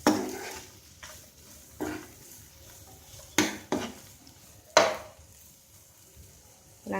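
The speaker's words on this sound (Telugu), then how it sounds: "అంతా కలిసేలాగా బాగా కలుపుకోవాలి" A spoon stirs salt, turmeric and chili powder into a fried base in a pan for a veg poori curry with potato, making several distinct metallic clanks and scrapes against the pan with a faint sizzle between them.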